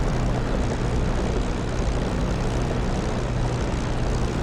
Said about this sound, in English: Taxi off this runway.